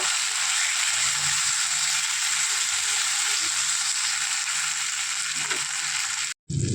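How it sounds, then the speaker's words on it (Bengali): Ginger garlic paste fries in a pan with a steady, dense sizzle and crackle and faint stirring scrapes, running alone until it cuts off abruptly near the end. "আদা রসুনের পেস্ট দিয়ে দিলাম। সবগুলোকে একসাথে একটু কষিয়ে নেব।"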